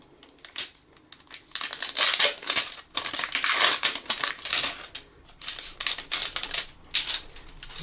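Crackly, crinkling rustle of protective plastic film being peeled off a new Nokia X6 phone, close and continuous with bursts of sharper crackle throughout.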